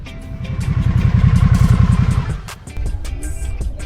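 A 2022 Harley-Davidson Sportster Nightster motorcycle rides through canyons, its engine pulsing loudly and steadily close by, then dipping briefly before picking back up with some wind and road clatter.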